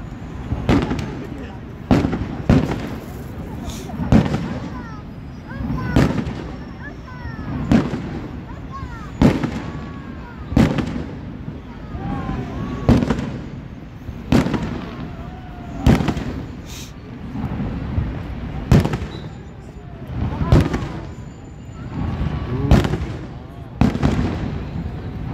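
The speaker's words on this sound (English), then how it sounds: "Fireworks in Niagara Falls." Fireworks burst over Niagara Falls in a long run of loud, sharp booms and crackles, fired every second or two with rumbling echoes between them.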